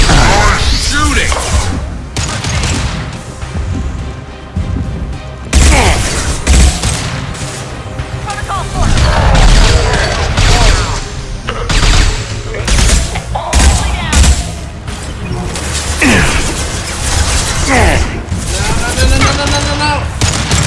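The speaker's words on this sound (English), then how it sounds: "Shooting!" Weapons fire in Mass Effect 2 crackles in repeated loud volleys and bursts over about twenty seconds, mixed with booms and impacts, while a player talks excitedly over the shooting.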